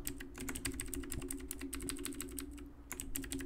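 Computer keyboard keys are pressed in a rapid, steady stream of close, crisp clicks over a low constant electrical hum, with no talking.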